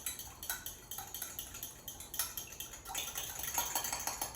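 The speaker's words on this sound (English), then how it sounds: "So now I'll use a fork to whisk together lime juice and olive oil." A fork whisks lime juice and olive oil for a black bean and corn salsa dressing, giving quick, light clinks and scrapes against the bowl in an irregular rhythm, close and fairly quiet, with no talking.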